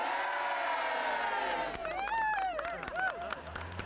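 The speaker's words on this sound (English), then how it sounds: "And this is the starting town of Enniscorthy with a huge crowd lining the route." A huge crowd lines the route at the Tour de France 1998 start in Enniscorthy, Ireland, sending up a steady roar of cheering with shrill whistles and horn-like tones rising over it.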